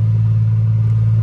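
A Mercedes W210 cruises on a highway in drive on a gloomy day, its engine giving a loud, steady, low drone heard from inside the car.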